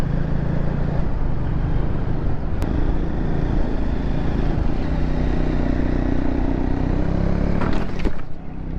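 A long motorcycle rides a risky, winding road near Hetauda, its engine droning loud and constant alongside heavy wind buffeting, with a few sharp clatters near the end.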